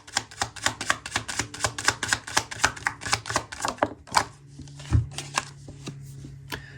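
Tarot cards are shuffled by hand in a rapid run of crisp, evenly spaced riffling slaps, close and clear, before they slow, a card is drawn, and a low hum lingers.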